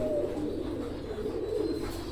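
A pair of Oman Teddy pigeons give soft, low cooing calls close by, a continuous murmuring coo without any voices.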